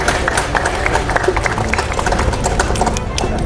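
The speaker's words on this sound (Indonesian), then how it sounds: "Tepuk tangan dulu." A crowd at an Indonesian Navy vaccination event at Kolinlamil claps steadily and densely, a close, even patter of many hands lasting the whole moment.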